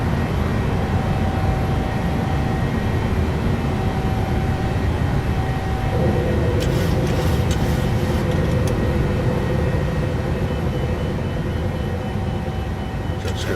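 A Sun Country airliner, flown in Microsoft Flight Simulator, climbs after takeoff with a steady roaring engine drone and a faint whine, loud and unbroken throughout, joined by a short rattling clatter partway through.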